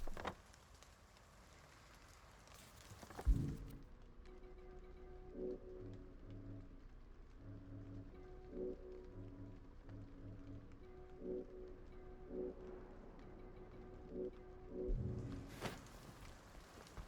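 Steady rain in the Silent Hill 2 Remake, a soft, faint hiss that runs throughout beneath sparse, quiet musical tones, with a couple of brief louder thumps.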